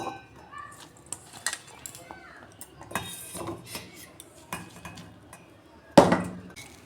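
Cooled boiled taro being ground into a paste by hand, with irregular scraping and soft knocking strokes at close range and one sharp clattering hit near the end.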